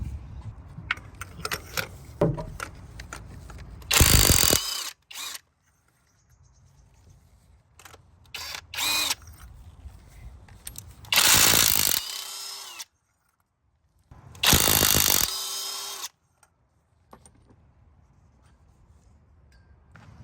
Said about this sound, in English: I'm just going to use my 14 millimeter magnetic spark plug tool.